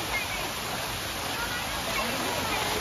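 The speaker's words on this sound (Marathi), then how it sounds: "मस्त असा धबधबा आहे." A waterfall on a family outing, heard as a dense, steady rushing roar of falling water that fills the whole moment without a break.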